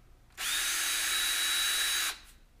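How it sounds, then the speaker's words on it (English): A power drill re-drills small vent holes in a model rocket airframe, one continuous high whine lasting under two seconds with a sharp start and stop, close and loud with no talk. "Then we can re-drill these holes."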